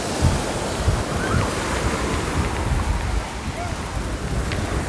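Surf washes onto Tamandaré beach in Pernambuco, Brazil, on a sunny Sunday, a continuous rushing roar of breaking waves mixed with gusty wind noise on the microphone.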